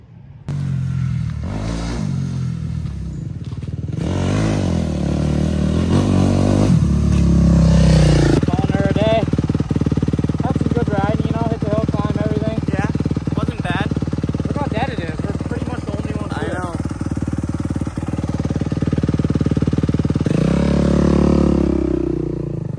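A Suzuki RMZ250 dirt bike engine runs loud and close at a steady idle with occasional blips of throttle, sustained throughout with a brief burst of revving near the start; people talk over it at times.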